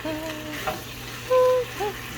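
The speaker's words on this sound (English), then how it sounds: "so then we'll stir fry this for a second" Bok choy stir-fried in a hot pan, a steady low sizzle running throughout with a few brief louder clatters of the utensil against the pan.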